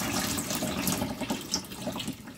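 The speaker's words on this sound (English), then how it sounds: "So when I'm rinsing this water out, this, that my wool doesn't go down the sink and block it up." Tap water runs steadily into a sink while raw wool fleece is rinsed in cold water, a continuous close splashing flow with small surges and no voices.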